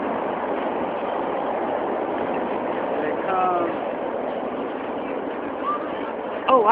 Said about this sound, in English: I hear the engines.